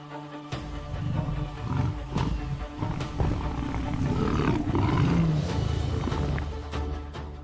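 A lioness on the savanna during a hunt gives deep, rough roars and growls, loud and close, rising and holding through the stretch with no talking.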